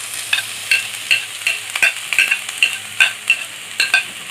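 Onion and garlic sauté in a pan while being stirred, a soft sizzle punctuated by about a dozen regular scraping strokes of a utensil, close and clear with no voices.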